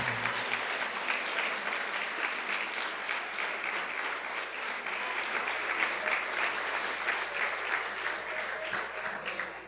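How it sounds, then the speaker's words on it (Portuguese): A church congregation applauds steadily at an evening worship service, a dense wash of many hands clapping throughout, loud and continuous with faint voices mixed in. "Aplauda o Senhor Jesus nessa noite, meu irmão."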